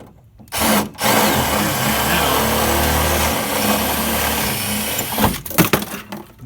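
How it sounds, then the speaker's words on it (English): Power drill drilling out a rivet on a Jeep XJ hood latch: a steady, loud, close whine runs for several seconds, bracketed by short bursts and ending in a few choppy stops and restarts. "Now we are drilling the rivet out from this piece here."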